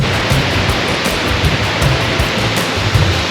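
A waterfall roars in a loud, constant wash of rushing water, close by and unbroken, with no talking.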